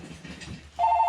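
Telephone ringing, a bright tone that starts suddenly near the end after a stretch of quiet room noise, fairly loud and close.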